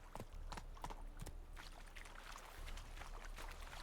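Horse hooves clip-clop in quick, uneven beats in The Witcher 3: Wild Hunt, faint and under a soft game ambience with no talking.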